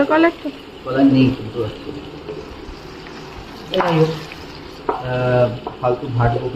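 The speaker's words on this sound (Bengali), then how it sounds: "পেঁয়াজটা যতক্ষণ না লাল লাল হবে ততক্ষণ অবধি পেঁয়াজটাকে নাড়াচাড়া করতে থাকতে হবে যাতে পুড়ে না যায় মিডিয়াম ফ্লেমে" Onions fry over a medium flame while being stirred, a soft steady sizzle with intermittent scraping, mostly underneath voices of people talking.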